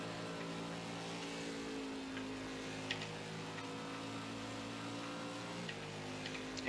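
A dirt race car engine drones at full throttle in the Roblox game on a Bristol dirt oval, a steady, fairly quiet synthetic engine whine with slight pitch shifts and faint clicks throughout.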